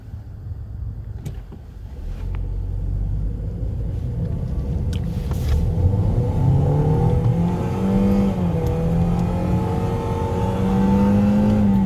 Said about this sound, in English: As you can see, the acceleration is pretty good for what it is.